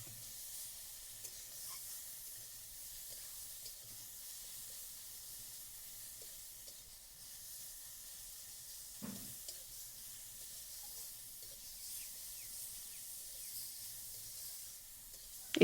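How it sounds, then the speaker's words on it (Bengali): Grated raw mango fries in hot oil with a steady, soft sizzle and hiss, punctuated by occasional scraping stirs of a utensil in the pan, fairly quiet and close. "দিয়ে আমটাকে একটু নাড়াচাড়া করে তেলের মধ্যে ভেজে নেব।"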